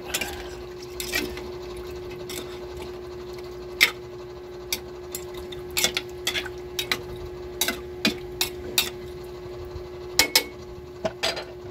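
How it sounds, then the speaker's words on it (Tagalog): Chicken feet adobo is stirred in a pan, with scattered light clinks and scrapes of a utensil against metal over a steady hum, growing more frequent in the second half. "Halo-haloin ulit."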